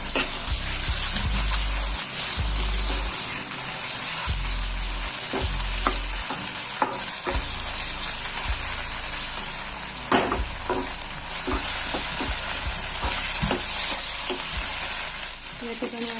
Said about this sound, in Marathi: आलं लसूणची पेस्ट जी आहे ती छान फ्राय झालेली आहे